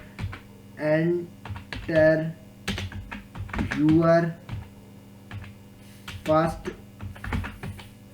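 Keys on a computer keyboard clatter in quick irregular bursts as Python code is typed, sitting softly beneath steady nearby talking throughout.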